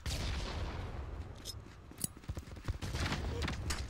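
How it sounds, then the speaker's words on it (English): Sporadic gunshots crack over a steady rumbling background in a competitive clan-match shooter game, with a few distinct sharp reports and a scattered volley toward the end, at moderate distance. "Shots coming at Ghostmaker."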